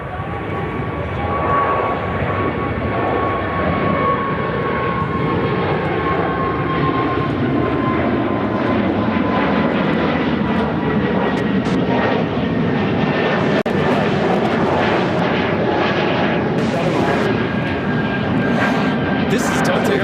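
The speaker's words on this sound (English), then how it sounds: "This is Delta Airlines 2894 taking off to LaGuardia on A220 100." A Delta Airlines Airbus A220-100 departs Chicago O'Hare in a loud sustained jet roar, its engine whine tones sliding slowly as it climbs away, steady and close for the full twenty seconds with no talking.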